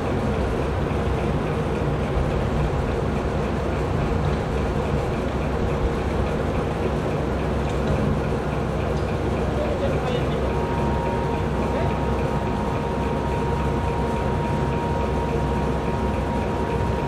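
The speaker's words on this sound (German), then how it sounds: "Der IC 2034 nach Norddeich." IC 2034 intercity train bound for Norddeich, heard as a steady, dense rolling rumble that holds unbroken throughout, fairly loud and close, with no talking over it.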